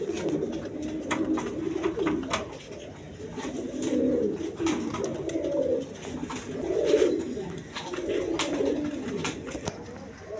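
A pair of red Gorra pigeons coo nearby in repeated rolling, throaty phrases that swell and fade every couple of seconds, over a faint room background.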